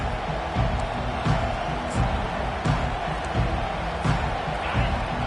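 A college football stadium crowd keeps up a dense, steady roar of cheering, with recurring surges and thumps pulsing through the broad wash of noise.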